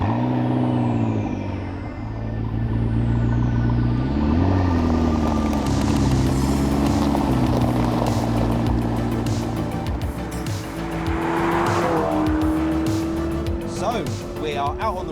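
McLaren 12C sports car driving on a road, its engine droning loudly and steadily with rising and falling revs, while a person talks over it throughout.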